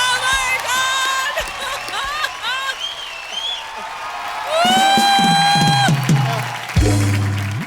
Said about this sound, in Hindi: जोरदार तालियां बंसाली साहब के लिए।